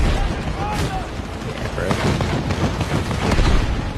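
Gunfire in the video game Battlefield 6 during a tank fight, dense bursts of shots and booming blasts crackling continuously and loudly, with a player's voice mixed in.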